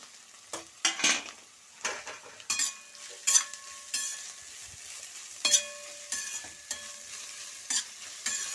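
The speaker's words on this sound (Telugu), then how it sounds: "ఒక ఐదు నిమిషాలు ఇలా వేగాలండి ఉల్లిపాయలు ఎక్కువ వేగక్కర్లేదండి" Chopped onions frying in a pan for gobi manchurian, a soft continuous sizzle broken by repeated clinks and scrapes of a spatula stirring against the pan.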